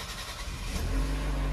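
A Jeep Renegade Longitude T270 2024 cranks and catches, its engine swelling into a steady, loud idle hum after a brief starter whir, heard close with no talking.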